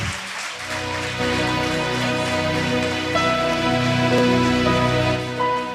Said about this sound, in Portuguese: as palmas engrandecem o Senhor